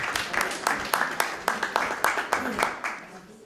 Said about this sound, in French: On peut applaudir, je crois.